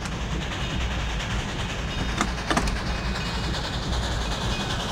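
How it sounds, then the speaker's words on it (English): Train rolling into Salzburg station in the PC game The Last Express, a steady loud rumble of wheels and carriage with a couple of brief metallic clacks midway, no voices. "Le train entre en gare de Salzbourg."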